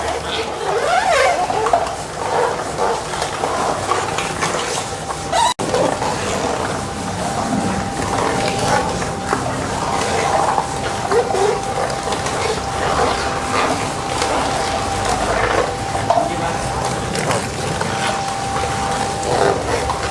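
A wooden cold-press oil mill made of vaagai wood crushes about 16 kg of dried coconut copra, giving a steady, continuous grinding and creaking mechanical rumble with one sharp knock partway through.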